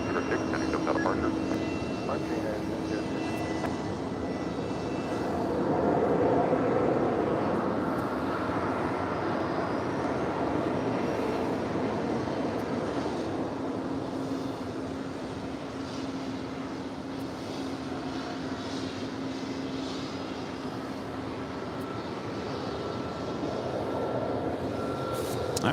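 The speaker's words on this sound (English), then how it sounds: "got that Alaska flight now rolling down 25 right" An Alaska Airlines jet rolls down runway 25 right at LAX, a distant, steady engine rumble swelling gently as it accelerates, with people talking over it throughout.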